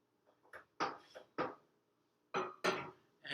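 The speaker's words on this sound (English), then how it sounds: "I'm going to stir a little bit just to let the system equilibrate" A mixture being stirred in a calorimetry cup during a lab experiment produces a few close, light clinks and taps that come in short irregular bursts against near silence.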